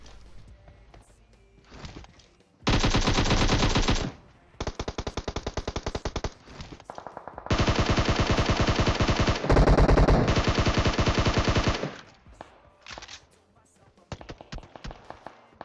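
Automatic weapon fire in the video game PUBG Mobile, long rapid bursts of gunshots in several loud sustained volleys separated by short pauses, with scattered single shots near the end.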